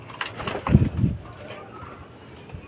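Pigeons in a loft give two low cooing calls close together early on, then only faint room noise remains.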